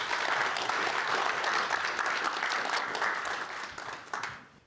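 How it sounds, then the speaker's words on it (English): Audience applause follows a talk at an event: steady, dense clapping from a seated crowd that holds for several seconds and then tapers off at the end. "Let's give him an applause."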